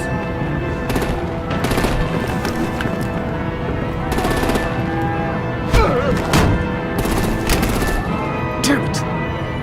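Gunfire and artillery in the video game Batman The Telltale Series, The Enemy Within, with repeated sharp shots and bursts over continuous loud action noise, while voices talk alongside.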